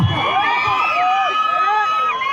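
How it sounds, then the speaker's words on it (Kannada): An audience cheers and whoops to welcome a folk artist onstage, a dense, steady crowd roar with shrill whistle-like calls rising and falling throughout, close and loud. "ನಿಮ್ಮೆಲ್ಲರ ಪ್ರೀತಿಯ ಜೋರಾದ ಚಪ್ಪಾಳೆ ಮೂಲಕ ಅವರನ್ನ ವೇದಿಕೆ ಮೇಲೆ ಬರಮಾಡ್ಕೊಂಡು"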